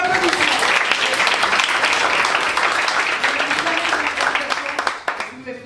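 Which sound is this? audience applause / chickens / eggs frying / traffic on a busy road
audience applause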